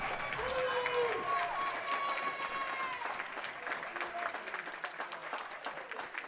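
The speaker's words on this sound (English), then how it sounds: "And you hear the cheer that something good happened." Spectators at a college men's tennis match between MTSU and Notre Dame cheer and applaud after a good point, a lively crowd roar with clapping that holds steady, with a commentator talking over it.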